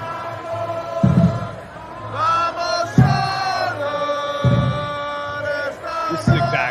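Crowd at a soccer watch party in a warehouse for a Charlotte FC match, a loud roaring mass of voices with swelling chants and heavy rhythmic thumps, shouting rising and falling throughout.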